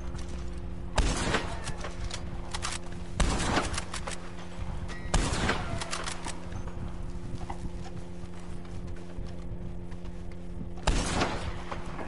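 Carcano rifle shots in the online western game Red Dead Online ring out as about four sharp, widely spaced cracks over a steady background hum, each with a short decaying tail.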